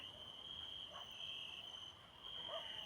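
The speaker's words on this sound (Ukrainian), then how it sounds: "І цвіркуни прокидаються разом з ним." Crickets trill steadily and continuously, a high unbroken chirping chorus over a quiet night background.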